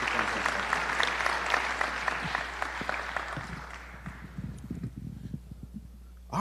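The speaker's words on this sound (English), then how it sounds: "Y'all give him a round of applause." Audience at a South Carolina gubernatorial candidate forum applauding steadily, dense clapping that gradually thins and fades over several seconds.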